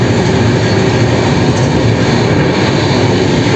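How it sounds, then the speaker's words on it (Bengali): Continuous low rumble and rattling hum of a moving passenger train leaving Gaya station in India, steady and loud throughout with no talking. "আমাদের ট্রেন এখন গয়া স্টেশন থেকে ছেড়ে দিয়েছে"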